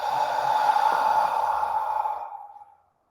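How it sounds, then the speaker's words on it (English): A single slow, open-mouthed exhale like fogging up a window, a breathy hiss held steadily for about two seconds and then fading out, close and alone. "Imagine you're fogging up a window with your breath."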